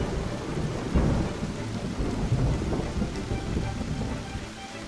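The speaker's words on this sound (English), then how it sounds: "Thunder rolled like the beating of war drums." Thunder rumbles and rolls through steady rain as a sound effect in a narrated story, with heavy low booms swelling over a constant downpour and no talking.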